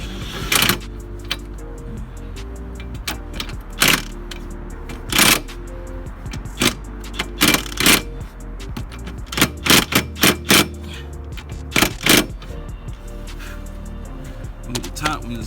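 Pneumatic impact gun tightening suspension joint nuts on a 2001 Lexus IS300 during steering hub and spindle replacement, repeated short loud rattling bursts over a steady hum, close by.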